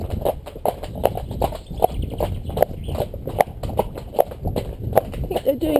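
A ridden horse's hooves clip-clop in a steady walking rhythm, close and clear, heard from the rider's position with people talking over the hoofbeats.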